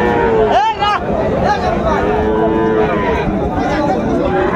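A young Friesian or crossbred bull calf gives a short, rising moo nearby, over a busy background of crowd chatter and outdoor cattle market noise.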